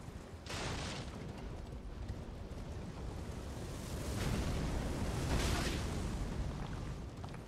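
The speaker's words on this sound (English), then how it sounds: "Now, right here, we're going to have a bunch of trebuchets, two shooting at us," Flaming trebuchet boulders crashing and exploding in the Elden Ring video game at Redmane Castle, a continuous heavy rumbling roar with surges of louder booming impacts, dense and loud throughout.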